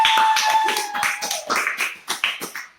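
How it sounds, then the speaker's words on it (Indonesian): Children in a classroom health-education session clap their hands in a quick, irregular burst of sharp claps that starts dense and thins out, close and fairly loud. "Ayo tepuk tangan lagi dong buat kita semua."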